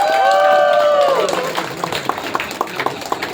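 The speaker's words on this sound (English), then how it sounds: "So can we give him a round of applause?" An audience at the grand opening of a Kuala Lumpur office begins clapping after a brief burst of cheering, with scattered claps continuing at moderate volume and thinning out toward the end.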